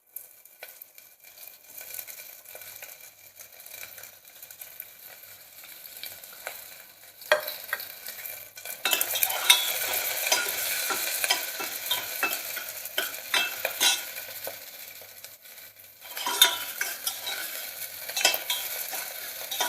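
A green chili and other ingredients hit hot oil for chicken soup, giving a close, steady sizzle that swells loudly partway through, with stirring scrapes and occasional utensil clinks and no voices.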